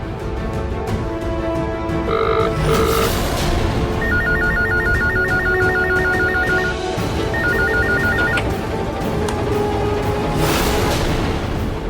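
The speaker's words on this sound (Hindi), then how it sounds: "लैंडलाइन पर कॉल करती हूँ।" A landline telephone rings in a busy household scene, its electronic bell coming in two bursts of rapid repeated trills over steady background music and room noise.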